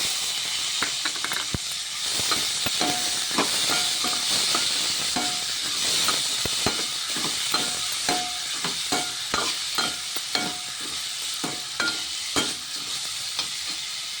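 Loud, steady sizzling of chopped tomatoes frying in a hot pan, with occasional stirring clinks and scrapes over the continuous hiss.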